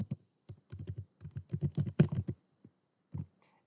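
Typing on a computer keyboard, close and clear, irregular bursts of quick key clicks with short pauses between runs of keystrokes.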